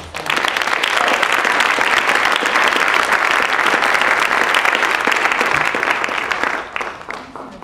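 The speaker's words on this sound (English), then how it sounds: "And let's give a big round of applause to Nancy" Dense, loud applause from an audience at a staged event, steady for about six seconds and then tapering off near the end.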